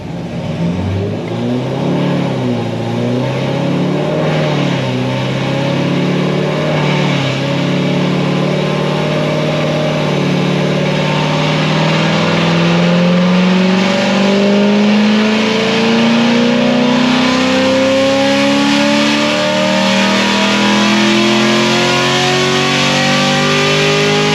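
A C7 Corvette with an LT1 V8 and upgraded heads and cam roars loudly, its pitch climbing through long sustained revs that fall back and rise again, close and continuous for the whole stretch.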